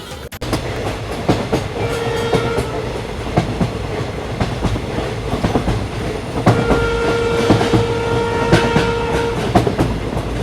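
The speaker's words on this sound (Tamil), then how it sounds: "அடுத்த செகண்டு ட்ரெயின் போக ஆரம்பிச்சிடுது." A train starting to move clatters heavily with repeated wheel clacks and metallic knocks, sustained horn-like tones rising partway through, loud and near, no talking.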